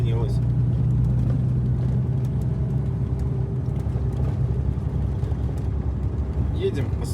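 A car rolling along a road in Yakutia gives a steady low engine and tyre rumble that holds at even loudness throughout, with brief clunks from the rough surface.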